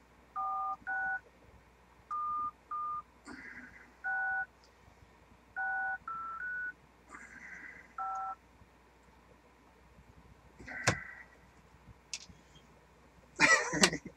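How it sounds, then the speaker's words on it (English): A telephone number is dialed on a keypad, sounding as a quick series of clear touch-tone beeps in uneven groups, followed by a cough and a few faint noises near the end. "So oops, dialed the wrong number."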